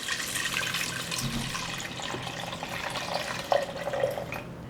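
Pineapple juice, about 1.5 litres, poured into a pot, a steady liquid rush and splash that runs continuously and evenly at close range with no talk.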